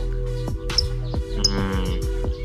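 A bird chirps in short, sharp tweets over a steady background hum, several quick calls spread across a couple of seconds.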